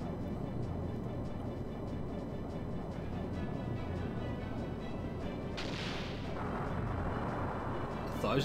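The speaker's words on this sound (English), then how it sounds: "that serpent cannon is inaccurate as hell" Serpent cannon fire in the Skies of Arcadia Legends video game, a low, rumbling barrage of booming shots under steady game noise, with a brighter crashing burst partway through.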